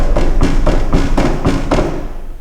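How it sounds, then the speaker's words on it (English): Wind gusts in an old chapel shake a loose inner window pane behind an intact outer one, giving a loud, close run of repeated heavy thumps and rattles, about five evenly spaced knocks over a steady low rumble. "when a strong breeze hits, it goes through and it rattles the inside"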